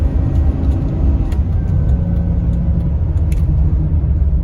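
A 2003 GMC Yukon XL SLT Quadrasteer 4x4 on the road gives a loud, steady low engine and road rumble with a faint whine layered in, and a few light knocks and clicks from the cabin along the way.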